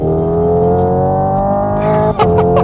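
Hyundai IONIQ 5 N electric performance car accelerating hard under full throttle, its synthesized engine tone holding a steady, loud drone with layered harmonics and a brief shift-like dip near the end.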